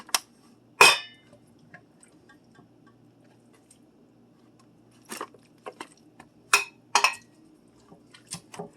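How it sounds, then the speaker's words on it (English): A spoon scoops finished crockpot chili into a pan, making a few sharp clinks against the pot and quieter scrapes, spaced out with stretches of near silence between them. "Chili is all done, and I'm going to scoop it out"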